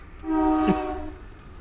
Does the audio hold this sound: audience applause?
no